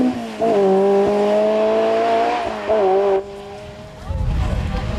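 Opel Manta rally car at the 1997 Stonethrowers Rally in Ireland, engine howling and shifting as it passes on a stage, loud then cut off, with a commentator talking over it.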